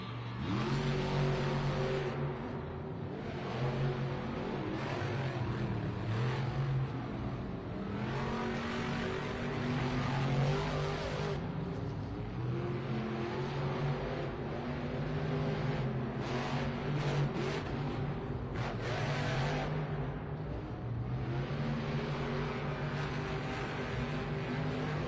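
Two monster trucks, JCB Digatron and Bad Company, race head to head in a semi-final round at an indoor Minneapolis arena, engines roaring and revving hard throughout, loud and continuous with crowd and arena noise underneath.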